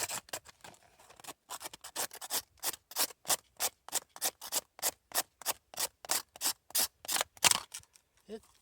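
Shavings scraped off a crusty water birch fire starter laid on the ground, a rapid series of close, dry rasping strokes in a steady back-and-forth rhythm, growing stronger as it goes.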